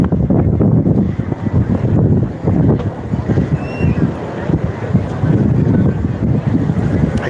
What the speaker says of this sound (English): is this wind really ripping up here?